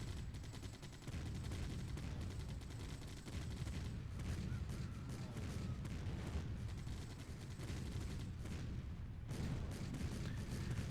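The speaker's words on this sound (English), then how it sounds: "it is time to send the anti-air guns to deal with this" Anti-air guns firing in the strategy game Empire Earth, a dense, continuous barrage of rapid shots and muffled booms rolling on at moderate volume throughout, with no speech.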